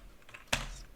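A single sharp keystroke on a computer keyboard, close and quiet, with a few softer taps around it in an otherwise still room.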